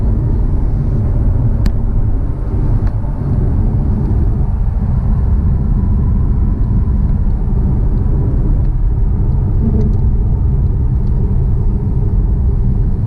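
A Maserati GranTurismo engine while driving, a steady, loud, low rumble inside the cabin that holds an even drone throughout, with no one speaking.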